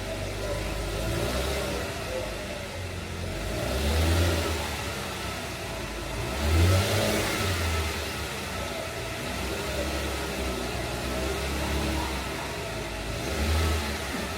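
A warmed-up car engine is revved several times, its exhaust note swelling in a few distinct surges over a steady idle, heard close and moderately loud with no talk.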